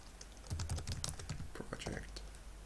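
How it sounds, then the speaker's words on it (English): Quick keystrokes click on a computer keyboard as a list of words is typed for a Hangman game's word file, a short irregular burst under faint speech-like sounds. "So if we just type some random words"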